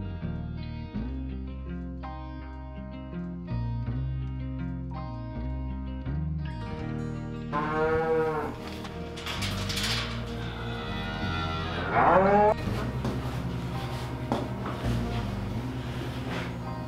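Cows moo in a homestead barn at morning milking, two drawn-out calls rising over steady background music.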